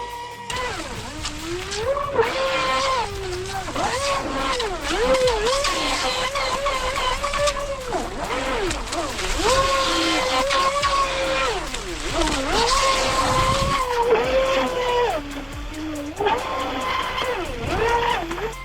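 A fast stunt-style basher boat, likely a radio-controlled model, rips across the water at speed with a high motor whine that rises and falls repeatedly as it turns and spins, loud and continuous throughout.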